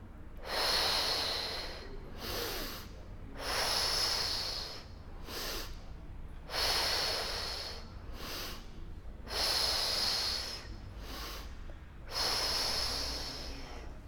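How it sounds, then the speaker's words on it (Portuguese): Deep, audible breaths during a pilates exercise in the second trimester of pregnancy, alternating long airy inhales and exhales in a slow steady rhythm, close and clear with no talk over them. "eu posso inspirar na ida e soltar o ar na volta"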